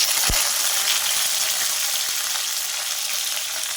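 Green chillies hit hot oil for Bombay chutney, making a loud, close, continuous sizzling hiss with a couple of faint clicks early on, gradually easing slightly toward the end.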